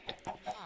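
Chickens clucking in the Minecraft video game, a few short separate clucks at close range over a quiet background.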